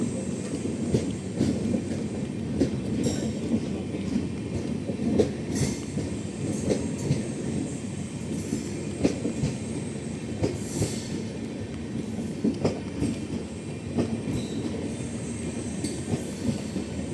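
A train rolls past on the rails near Velloor, a steady, loud rumble of wheels and carriages with clattering joints and occasional metallic squeals running throughout, no voices.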